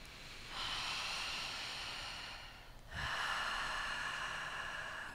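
Two long, deep breaths are taken during a breathwork exercise, each a loud, close, airy rush through the nose, separated by a brief pause.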